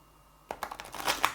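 After a brief quiet, cards are riffled in a quick, close flutter of papery clicks, softly recorded.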